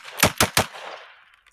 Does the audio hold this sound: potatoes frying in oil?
no